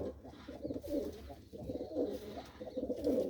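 Close, rhythmic cooing from pigeons kept by a fancier, three or four rolling throaty bursts in quick succession, fairly loud against a quiet background with no speech.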